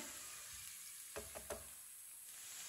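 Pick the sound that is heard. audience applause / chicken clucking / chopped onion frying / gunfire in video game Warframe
chopped onion frying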